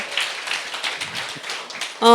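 Seminar audience clapping, light and scattered, with a sparse pattern of hand claps under a faint room murmur. A short electronic tone cuts in at the very end.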